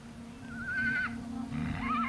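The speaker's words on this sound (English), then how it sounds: "The big surprise is that it's a Przewalski horse." A Przewalski's horse neighs in two separate calls, the first a long wavering whinny and the second shorter and rising, both fairly close and clear over a steady low hum, with no talk.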